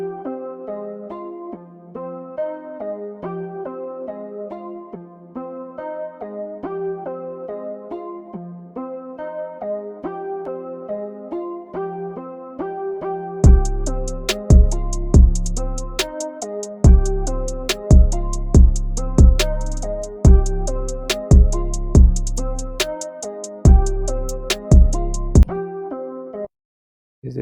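A sampled loop plays in Ableton Live, a melodic passage alone at first, then punchy drums kick in around the midpoint with steady, loud hits layered over the music.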